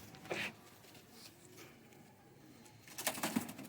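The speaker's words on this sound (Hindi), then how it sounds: "क्या अब ये चलता हुआ कबूतर दिखाएं आपको" A Teddy breed pigeon coos close by in a few soft, low calls, with quiet rustling between them.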